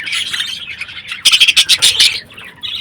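Budgerigars in a home breeding colony chatter close by, with a busy run of sharp chirps and squawks in the middle and softer warbling before and after.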